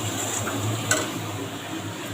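Chopped onion, tomato, ginger-garlic paste and spices fry together in a pan for chicken, a soft continuous sizzle with one brief clink of a stirring utensil near the middle.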